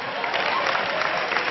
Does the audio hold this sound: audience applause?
yes